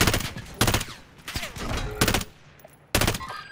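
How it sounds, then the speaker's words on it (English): Bursts of enemy gunfire in a video game, four sharp volleys of rapid shots at irregular intervals, loud and close, with quieter gaps between. "He's shooting at me, bro"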